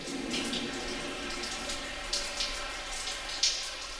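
Water flows steadily and drips in a storm-drain tunnel, an echoing, continuous wash with a few sharp droplet splashes standing out, and no talk.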